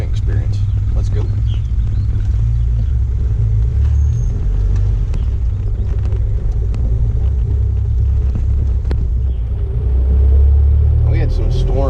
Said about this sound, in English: So let's go for a little ride. We'll go cruise around the golf course